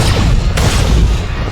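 Explosions in the Star Wars: The Old Republic video game on Ilum's foundry level: a loud, continuous deep rumbling blast with a sharp crack partway through.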